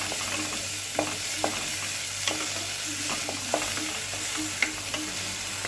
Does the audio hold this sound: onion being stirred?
yes